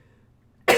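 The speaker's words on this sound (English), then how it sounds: "I was having a cough attack." A single sharp cough bursts out near the end after near silence, loud and close.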